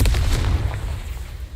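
A video game's Confringo spell explosion delivers a deep, rumbling boom with a heavy low-end roar, loud and close, decaying over about a second and a half.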